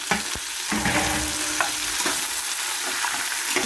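Paneer biryani base being sautéed in ghee with a spoonful of oil, a steady loud sizzle broken by repeated scraping stirs of a ladle against the pan, close up with no voices.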